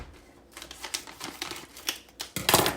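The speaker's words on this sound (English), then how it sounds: "Let me get my scissors out here." Scissors snip through a packet of cookie mix in a home kitchen, giving a quick run of crisp, close cutting and crinkling crunches that grow louder toward the end, with no talking.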